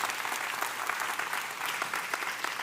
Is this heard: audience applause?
yes